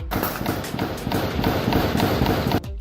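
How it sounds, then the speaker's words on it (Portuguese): Rapid bursts of gunfire crack repeatedly in quick succession, loud and dense, echoing over a noisy background for several seconds before cutting off, during an urban night-time armed confrontation in Porto Alegre, Brazil. "Na escuridão da madrugada sem lei, tiros e mais tiros."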